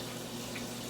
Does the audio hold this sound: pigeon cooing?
no